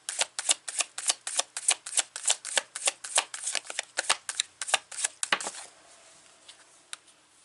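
Tarot cards riffle-shuffled by hand in a steady run of about twenty crisp, rapid flutters, close and clear, before tapering into quiet handling.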